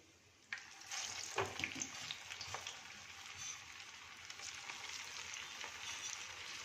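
Green fenugreek tikkis frying in a pan, giving a steady, soft sizzle and crackle that starts abruptly and carries on evenly, with faint scattered pops and no talking.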